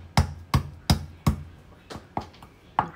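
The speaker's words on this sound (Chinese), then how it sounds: "腌苦瓜的时候，我们拍两瓣大蒜。" Two garlic cloves smashed with a flat blade on a cutting board while preparing pickled bitter melon: a series of sharp, close thuds, about seven impacts, the first four strongest and evenly spaced, the later ones lighter.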